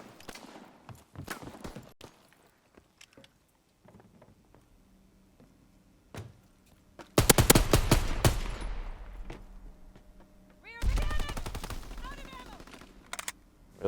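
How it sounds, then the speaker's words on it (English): Rifle and machine-gun fire in the World War II shooter game Call of Duty: WWII, with scattered single shots, then two loud sustained automatic bursts, heard close alongside someone talking. "He was firing at me that whole time and he only hit me once."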